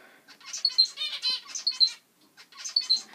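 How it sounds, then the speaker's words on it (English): Pet finches cheeping in quick bright bursts, a busy chorus of high chirps in two clusters with a short pause between, fairly close. "they complain about the noise they make, like cheeping in the background"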